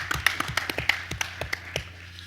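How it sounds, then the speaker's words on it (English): Applause at a clan conference gathering, heard as a modest run of steady, evenly spaced claps rather than a dense roar, fairly close and fading out after about two seconds. "Give them a round of applause"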